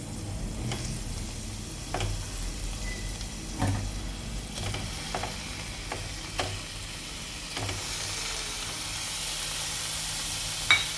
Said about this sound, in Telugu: ఇది ఫ్రెష్ బటర్ అండి ఇందులో మనం కోసుకున్న పన్నీర్ వేసుకుందాం అండి